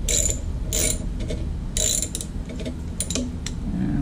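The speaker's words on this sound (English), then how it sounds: "so I'm just switching it out for a ratchet" A ratchet wrench worked on the glow plug harness terminal block of a 7.3 IDI diesel in a Ford F-350, giving loud, close, repeated ratcheting clicks in bursts with short pauses between strokes.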